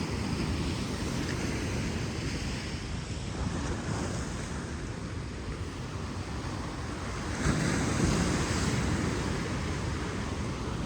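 Strong ocean waves breaking at Phu Quoc, Vietnam, a loud continuous surf roar that swells noticeably near the end, with wind across the microphone and no voices.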